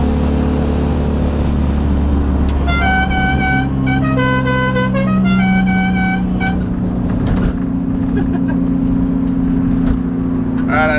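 A Dixie horn fitted to a Mazda Miata plays its melodic run of loud, clear tones over idling car engine noise and road rumble, then cuts off as the engine carries on.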